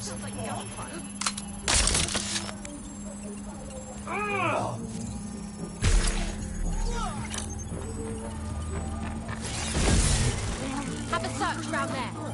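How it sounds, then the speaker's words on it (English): Gunfire breaks out in the video game Watch Dogs: Legion, a few loud sharp bursts spaced apart over a steady game hum, with voices speaking in between. "Sounds like gunfire."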